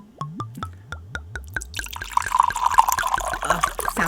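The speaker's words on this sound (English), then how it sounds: "Folks, put your volume up. Time for the pour." Wine glugs out of a freshly uncorked bottle, starting as a quick rhythmic series of hollow gulping plops that blur into a steady splashing pour, close and clear with no talk.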